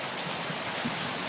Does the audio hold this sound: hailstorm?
yes